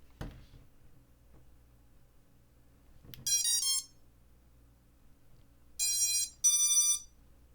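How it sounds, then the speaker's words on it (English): A CLRacing F4S drone flight control board gives its startup beep pattern: a short tonal melody of rising beeps, then after a pause two more bursts of bright electronic tones, near and clear over a quiet background. "we should get our full beep pattern now"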